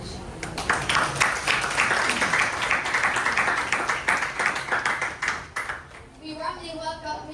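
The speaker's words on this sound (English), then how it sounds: "Everyone, please give them a round of applause" An audience claps loudly in sustained, dense applause for about five seconds to welcome the panelists at a school English class panel discussion, then it fades into a quieter room with faint voices.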